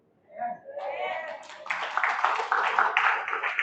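Clapping from a church congregation, starting as a few scattered claps and building into fuller, dense applause over a few seconds, with voices mixed in near the start.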